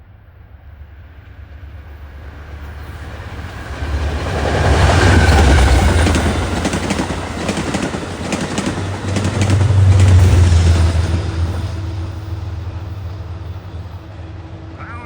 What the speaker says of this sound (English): approaching at 4:38 is Amtrak 290, en route from Burlington, Vermont to Penn Station